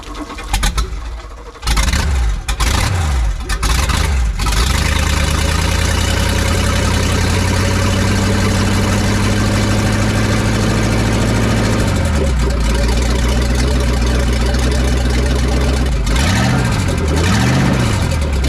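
A 1989 Lamborghini Countach V12 engine idles after starting with a deep, steady rumble, picking up briefly with a couple of short revs that bring a bad vibration, and settling back to a smooth idle.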